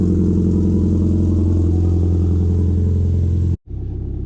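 A Subaru STI with an exhaust cutout idles loud and close with a deep, throbbing rumble that dips out for an instant near the end, then resumes.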